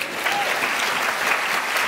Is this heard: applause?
yes